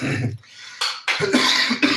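A person coughs in a few rough, close bursts with short pauses between them, in a home setting where mangoes are being picked for juice and pickle.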